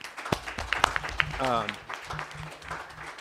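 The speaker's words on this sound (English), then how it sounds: "Can we first give another round of applause for the Sunrise Movement?" A round of applause for the Sunrise Movement breaks out at a talk on storytelling and narrative, scattered claps mixing with a voice that briefly speaks over the crowd.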